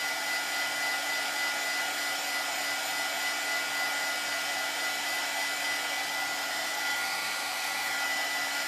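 A hair dryer blows steadily up close on a craft project for a whole stretch, an even unbroken whirring roar with no talking.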